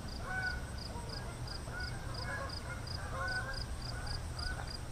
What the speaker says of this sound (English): I don't know if you hear that. That's Canada geese.